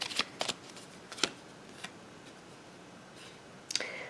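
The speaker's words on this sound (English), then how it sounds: "Let me pull another card and see." Tarot cards are shuffled and drawn during a reading, a few quick close riffles and slaps spaced out over quiet room tone, with a final burst of shuffling at the end.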